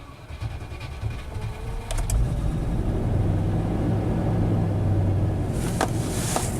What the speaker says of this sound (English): the engine is now running